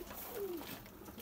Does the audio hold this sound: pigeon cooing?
yes